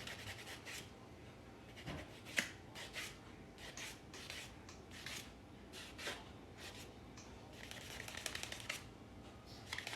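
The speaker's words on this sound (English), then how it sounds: "the next step is to lightly sand the highlights." Light sanding across the raised highlights of a 2024 Year of the Dragon Asahi silver round, a soft, close, intermittent scratchy rubbing in short bursts with a few small taps.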